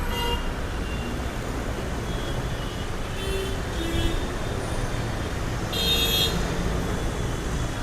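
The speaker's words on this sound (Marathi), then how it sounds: "मी आता बघा गाडी आवाज कसा येतो" Busy road traffic hums steadily in the background, with a few short car horn toots standing out near the middle and again toward the end; no one speaks.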